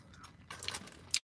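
Someone chews crunchy fried chicken close up, with a few brief bites and crisp crunches and a sharp snap at the end.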